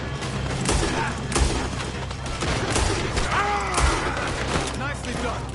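Gunfire in Red Dead Redemption 2 during a robbery shootout: a dense, steady barrage of shots and booms runs throughout, with game sounds and voices mixed in.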